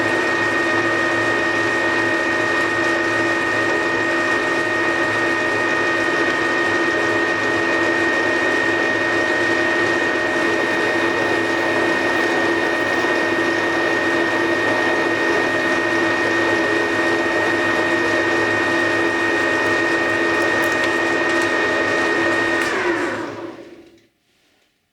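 A metal lathe parts off a coupler piece in a steady, continuous grinding whine with a slight rattle that holds for over twenty seconds before the machine stops abruptly.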